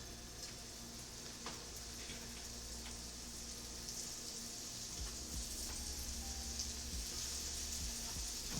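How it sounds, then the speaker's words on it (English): Steady, quiet sizzling and crackling of meat frying in a pan, continuous and close, with occasional small pops and no voices. "Hear that sizzle."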